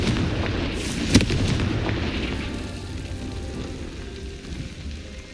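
A Confringo fire spell bursts with a sharp crack early on in Hogwarts Legacy, followed by a dense, rumbling low roar of game combat that slowly fades.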